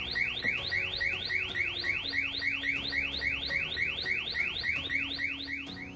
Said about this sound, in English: A cup of warm water instantly sets off the high temperature alarm.